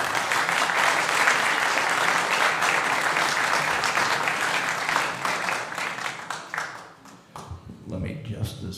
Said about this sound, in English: Let's have a round of applause for Craig.